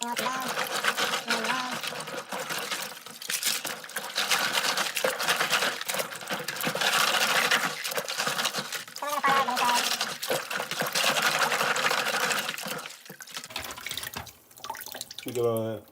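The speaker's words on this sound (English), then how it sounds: "I already rinsed out these rocks, so the water's not as dirty." Water sloshes and splashes as aquarium rocks are rinsed, stirred and lifted in a container, with a steady wet churning throughout and a brief clatter near the end.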